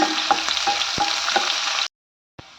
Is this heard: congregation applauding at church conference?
no